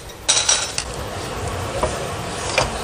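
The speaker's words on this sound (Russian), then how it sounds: "Сковородку убираем. Ставим другую сковородку." A frying pan knocks down onto a stove top in a kitchen while vegetables are being cooked, a couple of short clatters near the start and a faint knock later, over a low background hum.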